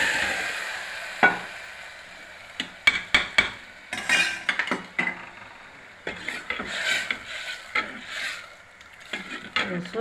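Eggplant and onion sauté in a hot pan for bajji with a soft sizzle, broken by repeated scraping and clacking of a spoon stirring against the pan in uneven bursts.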